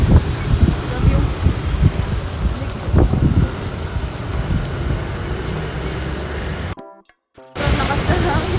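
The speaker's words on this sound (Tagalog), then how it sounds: "Sobrang lakas na hangin." Strong wind roars and buffets the microphone with a constant rough rush, briefly cutting out before returning; a voice talks beneath it.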